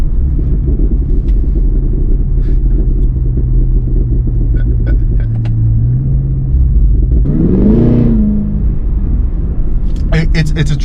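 A 2024 Cadillac Escalade-V engine rumbles steadily, then revs up sharply around the middle, with crackling pops and burbles near the end; the exhaust is loud and close.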